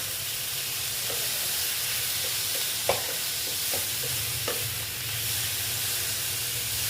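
Radish curry (mulor ghanta) being stirred in a pan over a soft steady sizzle, with a few light scrapes and taps of the spoon against the pan.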